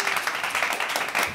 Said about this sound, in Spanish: Un aplauso, por favor, para Ari Brickman.